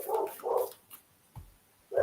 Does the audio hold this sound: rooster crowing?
no